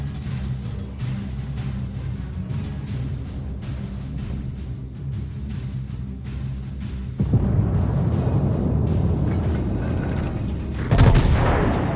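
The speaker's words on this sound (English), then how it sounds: "Shots out at the Tier 10 premium, or Tier 10 German battleship." Heavy naval gunfire booms from a Tier 10 German battleship in the video game World of Warships, a dense continuous rumble that swells at about seven seconds and peaks in a sharp blast near eleven seconds.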